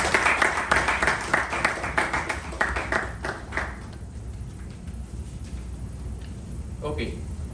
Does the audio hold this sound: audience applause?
yes